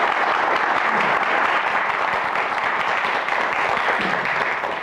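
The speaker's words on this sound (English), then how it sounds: "give them a round of applause" Steady, dense applause from an audience at a live film event, continuous and fairly loud for the whole stretch without any voices on top.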